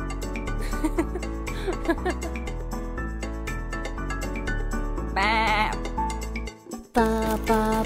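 Sheep bleating inside a children's nursery-rhyme song with zoo animals: quavering bleats rise over bright, steady backing music, one near the middle and another close to the end, both loud and upfront.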